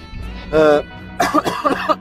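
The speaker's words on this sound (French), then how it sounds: "Excusez-moi, je tousse." One short cough close by, followed right away by a person speaking.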